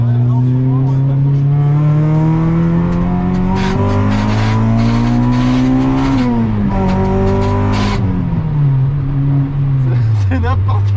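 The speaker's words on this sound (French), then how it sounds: "on entend vraiment bien le VTEC se déclencher" A Honda Integra Type-R engine revs loud and close, climbing steadily in pitch before VTEC engages with a sharp jump in tone. It then falls and climbs again, with voices faintly underneath.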